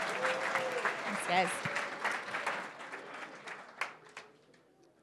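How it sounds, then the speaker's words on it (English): An audience at a startup showcase event at Atlanta Tech Village claps in a fairly quiet, close round of applause that fades toward the end, with a brief spoken word over it. "Round of applause."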